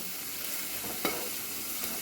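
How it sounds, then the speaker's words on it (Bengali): Fish cooks in a pan, giving off a steady close hiss of bubbling oil with a single sharper tap partway through and another faint one near the end. "মাছগুলো ফুটছে দেখি"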